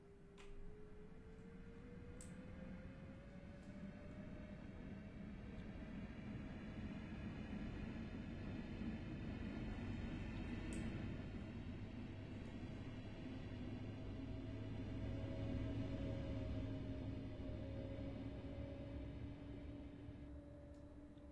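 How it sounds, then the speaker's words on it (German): An ET 445 Twindexx double-deck regional train in Train Simulator 2018 pulls away from a station, a steady low rumble with a rising electric motor whine and faint ticking, no voices. "unser Zug hat Abfahrt"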